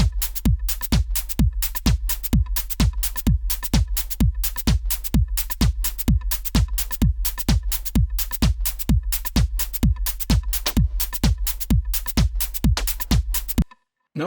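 Layered drum sounds synthesized on a Yamaha Reface CS and mixed in Cubase: a steady, driving beat of deep kicks and bright noisy hits repeating for about fourteen seconds, then stopping abruptly.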